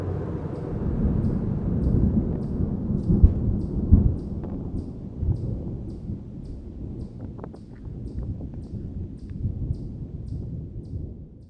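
Low, rolling thunder rumbles continuously in the distance, swelling and fading in long waves with no voices present.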